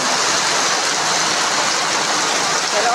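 Heavy typhoon rain pours steadily in Lemery, Batangas, a dense, unbroken roar of falling water that stays loud and even throughout, with no wind gusts standing out.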